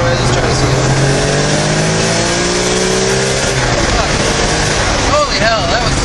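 A turbocharged BMW M3 accelerates hard on a street, its engine roaring loudly and steadily up close, with rising pitch sweeps as it revs and a brief tire squeal near the end; a voice is partly audible under the noise.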